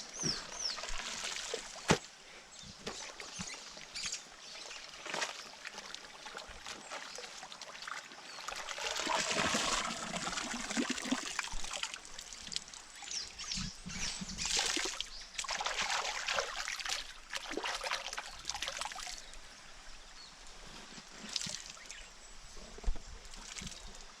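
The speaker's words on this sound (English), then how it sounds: "Now, once you wash, you just rinse like this." Washed clothes rinsed in a large river in a Kenyan village, with continuous splashing, sloshing and trickling water that swells in bursts, close by, with no talking.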